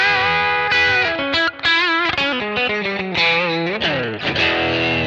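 Electric guitar with a P90 pickup played through a Kemper profile, with bright, sustained melodic notes and bends in a continuous, loud line and no talking.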